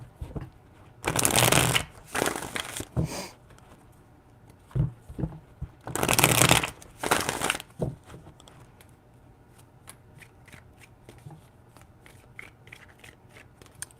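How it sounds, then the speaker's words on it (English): Tarot cards shuffled by hand, three loud riffling bursts, each a second or so long with small taps and card slaps between them, close up and with no talking. "Three shuffles."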